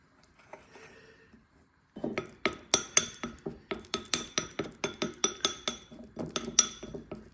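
A spoon mixing whey protein into a homemade spread, heard as quiet handling followed by a steady run of sharp, close clinks and scrapes against a bowl, about two per second.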